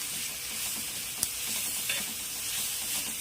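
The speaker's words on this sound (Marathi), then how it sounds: "आता आपण पाट्यावर वाटलेलं हिरवी मिरचीचं वाटण टाकायचं मी याला असं परतून घ्यायचं" Green chili paste, hand-ground on a stone slab, sautés in hot oil in a pan, giving a steady, close hiss of frying with a couple of brief sharp clicks and no voices.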